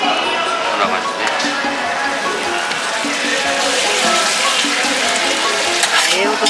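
Beef offal grilling on a hot griddle at a long-running Osaka Kujo offal shop, with a steady, close, crackling sizzle and intermittent stirring and scraping throughout.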